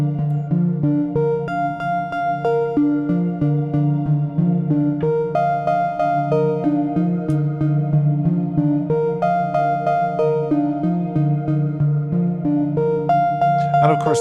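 A modular synth sequence from an Ornament and Crime Quantermain quantiser runs continuously, stepping through pitched notes in a steady repeating pattern with reverb and shimmer tails, loud and alone without talk.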